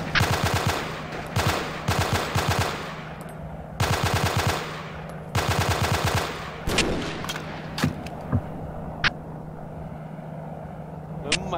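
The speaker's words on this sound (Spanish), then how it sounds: "tres balazos de francotirador en como si nada" Bursts of rapid automatic gunfire and several sharp single shots from a sniper rifle in the video game Joint Operations, loud and close, with sporadic separate shots toward the end.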